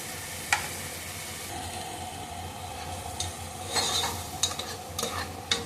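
Tomato paste with cinnamon and cardamom fries in a pan, a soft steady sizzle under intermittent stirring scrapes and a few sharp spoon taps against the metal.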